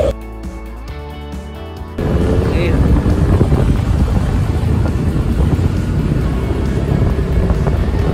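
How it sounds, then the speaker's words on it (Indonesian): Strong wind buffets the microphone on a roadside drive near Cicurug, Sukabumi, as a loud continuous rushing roar that begins abruptly after a quieter opening with traffic-like hum. "sekarang kondisi angin lumayan kencang ya guys"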